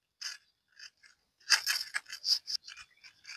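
Small murala fish being mixed by hand with chopped onion, chopped garlic and spices: close, wet, crunchy squishing in irregular bursts, a few soft squelches first and then a denser run of scraping and squeezing, with no voices.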